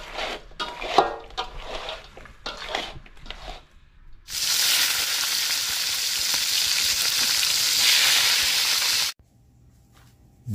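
Salted milkfish sizzles loudly in hot oil for several seconds, a steady hissing fry preceded by some clinking and handling noises.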